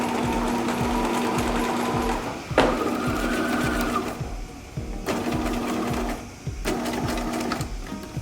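Sewing machine stitching pleather onto a denim jacket, running in steady rapid bursts with brief pauses between them, close and fairly loud with no voices.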